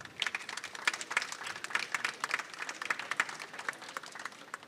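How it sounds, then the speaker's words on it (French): Audience applauding at a student photography presentation, a steady burst of many hands clapping indoors, fairly close and unbroken, with no voices over it. "on peut encore l'applaudir"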